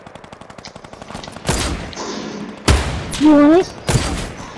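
Gunfire in the video game Fortnite, scoped rifle shots and rapid bursts, comes as loud sharp cracks mixed with a player's excited talk and a rising squeal of a game effect.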